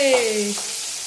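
Pieces of fish hit hot oil in a home kitchen pan and set off a brief, bright sizzle with a faint whistling tone that quickly settles into a steady hiss.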